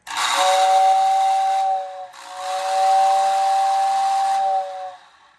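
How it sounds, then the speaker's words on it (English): A Lionel toy steam locomotive whistle blows two long, shrill, hissing blasts, loud and close, separated by a brief pause. "give us that really strong locomotive whistle"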